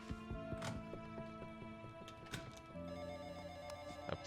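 A telephone rings repeatedly in the video game I Am Your President, with bright electronic ringing bursts over layered game music.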